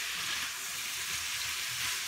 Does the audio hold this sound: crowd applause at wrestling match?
no